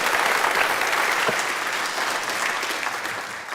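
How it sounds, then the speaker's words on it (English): Sustained, dense applause from a live stage-show audience, steady and fairly loud throughout, with no speech over it. "Round of applause for Alfredo"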